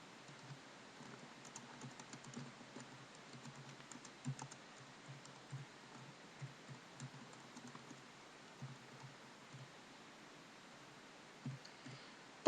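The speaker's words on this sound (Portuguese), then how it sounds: "vamos digitar tabela 1" Soft, steady typing on a computer keyboard while entering a table title in a document, with quiet rapid key clicks running continuously and faintly with no voices.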